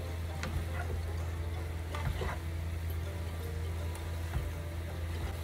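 Desiccated coconut and pumpkin pieces stirred in a pan on the stove, producing a steady sizzle with occasional light scrapes and taps of the spoon, continuous and close with no talk.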